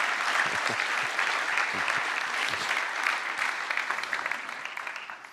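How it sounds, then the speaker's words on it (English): Audience at a raw materials summit applauding steadily for several seconds, a dense even wash of clapping that tapers slightly at the end, with no talk over it. "Can we have a round of applause, please, ladies and gentlemen?"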